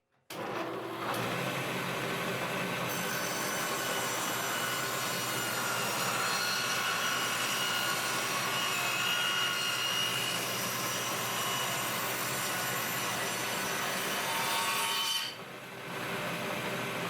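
A saw runs steadily and loudly for about fifteen seconds, milling an oak pallet runner down to size against the fence, then winds down near the end.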